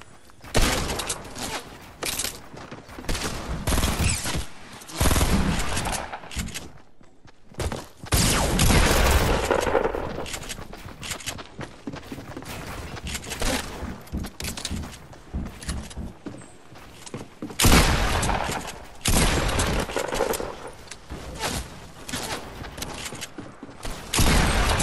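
Heavy video game gunfire, dense loud volleys that come and go in bursts across the stretch, broken by short quieter gaps and mechanical clatter.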